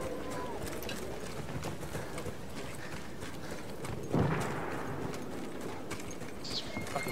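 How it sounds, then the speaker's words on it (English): Rhythmic hoofbeats of a galloping horse in Battlefield 1, fairly quiet, amid gunfire-like bursts and background game noise; a louder impact hits midway. "A guy on horse coming through"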